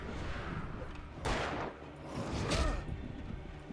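Gunshots in the video game Alan Wake, two loud bursts about a second apart against a steady background bed of game ambience.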